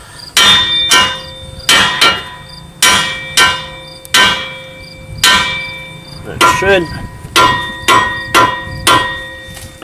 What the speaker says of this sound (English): take your hammer and just hit this